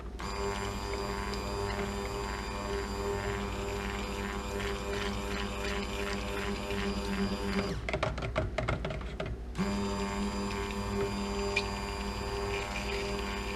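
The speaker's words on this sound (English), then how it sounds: "if you just keep stick blending past the applesauce looking separation point" A stick blender whirs steadily through cold process soap batter for mechanic's soap with pumice and activated charcoal, a constant close motor hum that briefly changes to a rattling chop before resuming.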